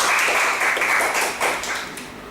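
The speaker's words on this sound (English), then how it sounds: "Give him a big round of applause" Applause from the audience at a Toastmasters meeting, a dense, steady patter of many hands clapping that fades slightly toward the end, with no voices over it.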